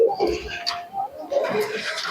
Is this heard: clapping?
no